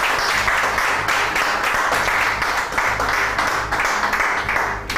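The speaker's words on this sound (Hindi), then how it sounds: "इस खूबसूरती के लिए एक तालियां तो बनती हैं" Studio audience applause, a loud, steady wash of many hands clapping together that continues evenly from start to finish.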